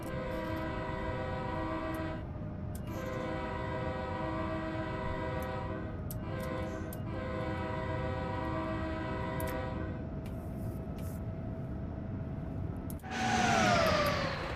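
An Amtrak train horn in Train Sim World 3 sounds in several long sustained chord blasts, broken by short gaps, over a steady rumble of rail noise, then a brief louder swish at the end.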